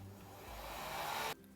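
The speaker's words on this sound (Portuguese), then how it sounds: "E aí, vocês podem utilizar soprador ou secador." Hair dryer blowing close and steady to dry paint on a decorated glass bottle, a continuous airy whoosh that rises slightly before switching off abruptly near the end.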